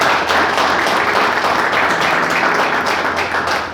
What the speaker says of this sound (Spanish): ¿Cuántos le dan un aplauso a Dios?